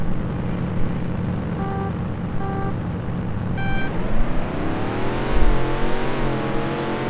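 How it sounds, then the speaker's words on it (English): A race car in the Test Drive video game launches off the line in a drag race, its loud engine revving up in a rising, climbing whine as it accelerates hard. "See, his car takes off pretty good."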